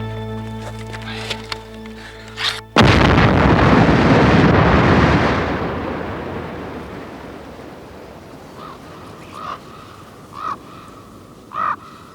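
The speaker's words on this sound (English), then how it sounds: "Heidi and Brian, it's fire in the hole. Fire" Explosive blasting of granite in Yosemite: a low background hum gives way to a sudden loud blast, whose rumble rolls on and slowly fades over several seconds. A few faint, short bird-like calls follow.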